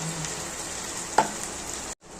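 Continuous hiss of eggplant and potato frying in a pan, with a single brief clink partway through before the sound cuts off.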